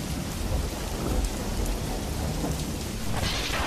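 Heavy rain pours steadily on surfaces during a thunderstorm, with a low rumble of thunder beneath the dense, constant hiss, loud and close throughout.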